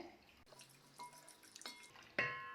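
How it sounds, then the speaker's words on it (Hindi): Water is poured into a mixer jar while making saffron almond syrup, a short run of close splashes and trickling with a sharper splash near the end. "अब इसमें मिक्सर में थोड़ा सा पानी डालेंगे"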